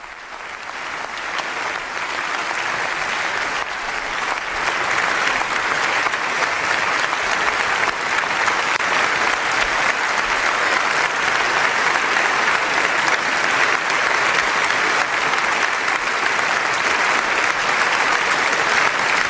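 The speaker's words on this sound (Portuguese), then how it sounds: "ele é aplaudido com o parlamento de pé" Standing ovation in the German parliament after a speech by Pope Benedict XVI, with sustained applause from a large seated-then-standing crowd that swells slightly and holds steady, dense and loud throughout.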